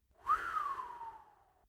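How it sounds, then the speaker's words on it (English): A single long whistle, starting slightly higher and gliding gently downward as it fades, heard alone against silence. "He gave a long, low whistle."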